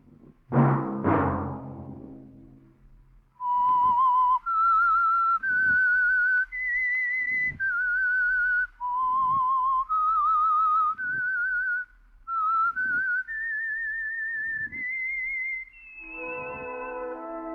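A single whistler carries a bright, steady melody of sustained notes stepping up and down, clear and close, after a brief low opening sound, as the theme of a 1949 radio drama.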